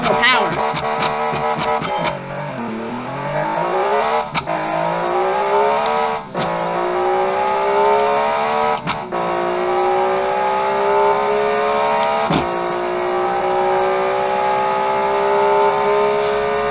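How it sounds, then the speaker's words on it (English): A 2000cc track car in the Automation racing game accelerates hard down a drag strip, its engine note climbing loudly through a string of sharp gear shifts, each followed by a renewed rising whine. "Alright, now for a drag race."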